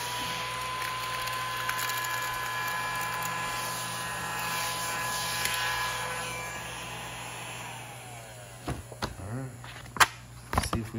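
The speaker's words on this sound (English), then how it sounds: "A little vacuum break." A small vacuum cleaner runs with a steady whine and hum that fades out after several seconds, followed by a few clunks and handling noises.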